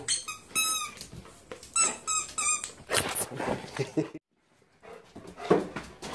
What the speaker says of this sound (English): These dogs have got new toys.